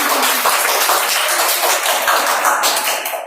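A classroom of students clapping for their group leader, a dense, steady burst of many hands that fills the room for a few seconds before tapering off.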